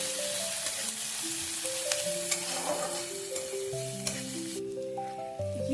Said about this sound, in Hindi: अब हम इसमें कटा हुआ प्याज ऐड कर देंगे और इन सब को हम अच्छे से लाल होने तक भून लेंगे।